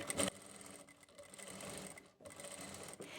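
A sewing machine runs a steady line of stitching over gathered sharara pleats, a continuous close rattling hum with a brief pause partway through.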